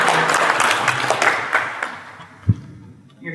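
A fan panel audience at a 2008 gaming fan event gives a steady round of clapping that fades out, ending with a single sharp thump.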